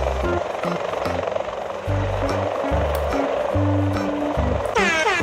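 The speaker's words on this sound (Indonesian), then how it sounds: "jalan sendiri helikopternya teman-teman." A toy helicopter's motor whirs steadily with a buzzy mechanical hum, accompanied by busy electronic music and a rising chirpy toy sound near the end.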